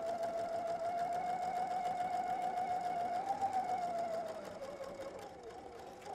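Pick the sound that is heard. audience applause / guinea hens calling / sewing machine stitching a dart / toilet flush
sewing machine stitching a dart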